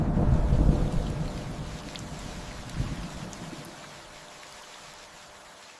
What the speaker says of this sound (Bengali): তারপর নেমে এলো বৃষ্টি